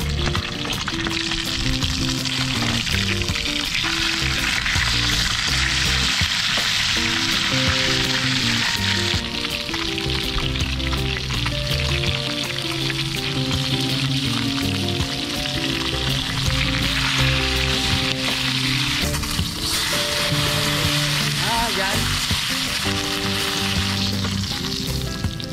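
Oil sizzles and crackles loudly and continuously as tilapia fries in a pan, with a steady hiss throughout.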